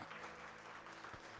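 A church congregation claps together in a steady wash of applause during a Spanish-language service, continuous and fairly full with no clear voices rising above it.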